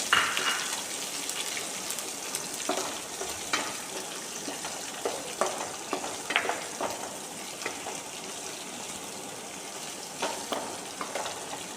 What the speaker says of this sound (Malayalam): നേരത്തെ അരിഞ്ഞ് വെച്ചിരിക്കുന്ന ഉള്ളിയും കൂടി ഇട്ട് കൊടുത്തിട്ടുണ്ട്